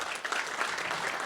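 An audience at a Tahoe evacuation town hall applauding, a brief, even burst of many hands clapping together, moderately loud and continuous.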